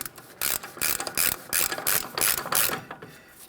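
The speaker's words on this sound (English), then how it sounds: "Let's install our axle nut." A hand ratchet tightening the rear axle nut on a 2007-2013 Acura MDX 3.7L V6, giving a steady run of about eight loud, close clicking strokes with no talk.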